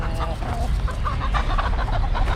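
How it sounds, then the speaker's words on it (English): Roosters cluck in short, repeated bursts at moderate distance over a noisy outdoor background at Dolmabahce Palace, Istanbul. "There's roosters over there."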